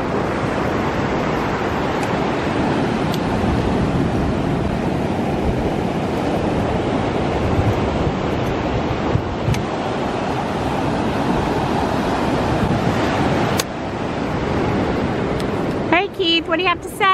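Ocean waves and wind at Panama City Beach make a continuous loud wash of surf and wind rumble with heavy wind buffeting on the microphone, broken near the end by brief handling noise.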